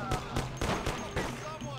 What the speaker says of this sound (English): Did you just shoot out my fucking tire?